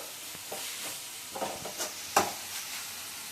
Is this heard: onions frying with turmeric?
yes